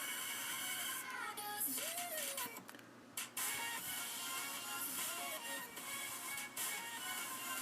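A sewing machine stitching the hem of a pant leg, a steady close mechanical whir and rattle with a brief pause partway and faint creaks.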